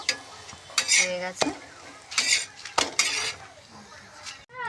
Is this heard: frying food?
yes